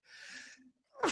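A single sharp sneeze bursts out near the end after a breathy intake, close and fairly loud, with no talking.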